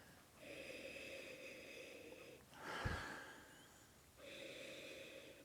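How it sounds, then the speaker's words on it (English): A person draws in one short, close sniff of Talisker 10 single malt whisky from a glass, set between quiet steady background hiss. "Let's give it a sniff and see."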